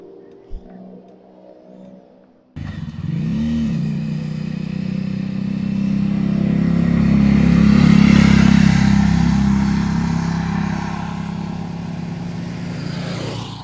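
A Bajaj Dominar 400 motorcycle engine starts after a quiet moment, then idles and revs up loudly and close, swelling to a peak and easing back down.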